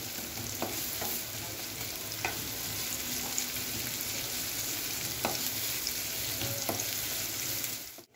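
Vegetables and chopped garlic fry in butter and oil in a pan for spicy Bengali-style noodles, a constant loud sizzle broken by occasional clicks and scrapes of stirring.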